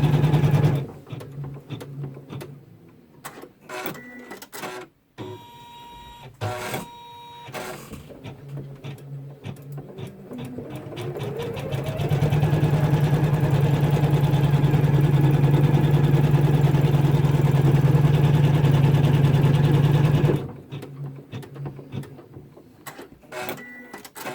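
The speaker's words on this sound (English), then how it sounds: "stitch colorway 2 to secure the minky onto the stabilizer" An embroidery machine stitches minky fabric onto stabilizer, a steady rapid mechanical chatter of the needle that starts and stops in short bursts, then runs continuously and loud for several seconds before breaking into bursts again.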